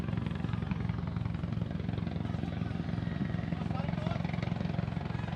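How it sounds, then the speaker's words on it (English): A helicopter comes in to land on a helipad behind the grandstand at a football ground during an under-19 grand final. Its engine and rotor make a steady, dense rumble that drowns out the crowd for the whole stretch. "we've got the helicopter coming in now"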